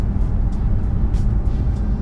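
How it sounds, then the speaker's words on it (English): Steady, low road and engine rumble from inside a long-wheelbase Jaguar XJ luxury saloon cruising at 40 mph, a smooth continuous drone with no talk. "And we're cruising at 40 miles an hour now."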